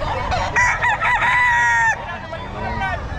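A loud rooster crows nearby in one long, harmonic call at the Bocaue pet market, with a bit of background noise and scattered clucking around it.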